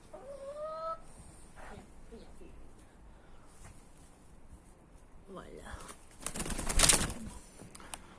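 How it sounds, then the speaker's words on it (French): A hen clucks in short bursts against a quiet outdoor background, with a louder flurry of sound near the end. "j'ai une poule qui fait du bruit"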